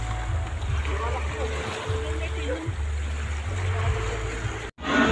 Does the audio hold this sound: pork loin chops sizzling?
no